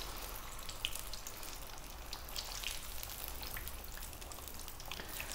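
Spicy potato cakes (aloo tikki), an Indian street food, frying in oil with a steady, close crackling sizzle and scattered pops throughout, no voices.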